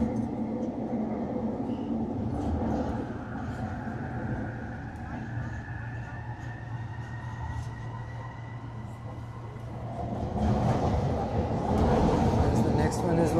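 A SkyTrain metro train runs through a busy Metro Vancouver station, a steady low rumble building to a louder rush near the end, mixed with crowd noise and people talking nearby.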